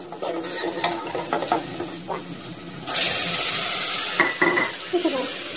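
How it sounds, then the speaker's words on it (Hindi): Spices stir-frying in a pot for aloo matar pulao, with steady sizzling and repeated scrapes and clinks of a spoon against the metal pan, swelling into a louder continuous hiss partway through. "हम इसमें बाकी के मसाले डालेंगे। और इन्हें भूनेंगे।"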